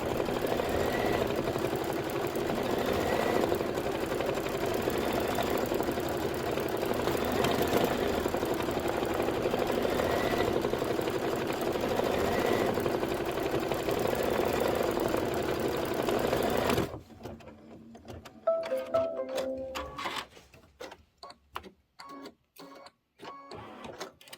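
Kimberbell embroidery machine stitching a tack-down line on a pillow block, a steady rapid mechanical whir and hum running evenly for most of the stretch, then cutting off into a few quieter clicks and handling sounds, no speech.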